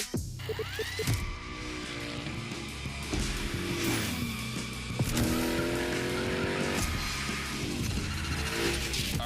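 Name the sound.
Hoonicorn car sliding, from video game The Crew Motorfest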